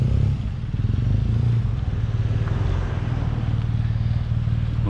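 Motorcycles on a touring ride through German forest roads, a steady low engine rumble with wind buffeting, close and continuous without talk.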